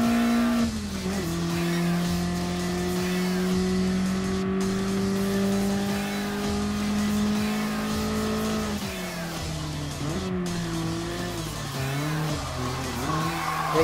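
A BMW M3 Sport Evolution, the late-1980s sports car, races in Gran Turismo Sport with a loud, steady engine drone whose pitch holds, then dips and climbs again as it shifts and corners, tires faintly squealing, no talk.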